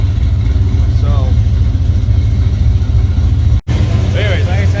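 A warmed-up Ford Mustang engine, street-tuned, idles with a steady, loud low rumble throughout, with someone speaking briefly over it.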